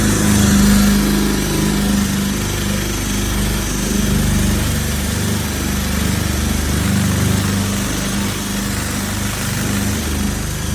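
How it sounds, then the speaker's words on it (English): Steady, harsh whirring of a wire wheel stripping paint off a Coleman cooler runs loud and close for about eleven seconds, with no talk. "I guess I'll probably end up wire wheeling"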